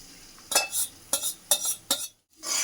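Egg poured over leftover chapati pieces in a pan, stirred with four or five distinct scraping strokes over a light sizzle, then a brief silence before the frying resumes.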